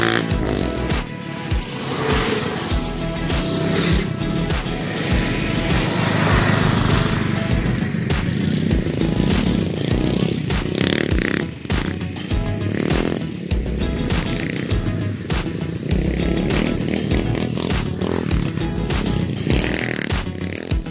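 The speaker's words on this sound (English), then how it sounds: "I am going to start off riding the SSR 125, hitting some jumps, doing some wheelies" An SSR 125 dirt bike roars steadily and loudly throughout as it is ridden over jumps and pulled into wheelies, its engine note rising and falling without a break.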